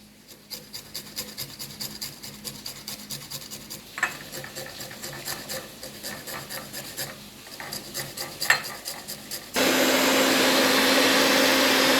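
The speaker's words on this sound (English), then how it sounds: "so I'm grating the lime. I'm using the zest of the lime." Lime being grated for zest for a Christmas fruit cake, a steady rasping scrape repeated in quick strokes, close and fairly loud, ending in a sustained broadband hiss.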